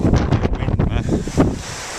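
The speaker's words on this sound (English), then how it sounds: "Wind." Wind gusting outdoors beside a canal, buffeting the microphone with a rough, low rumbling roar that swells and eases over two seconds, with no voices.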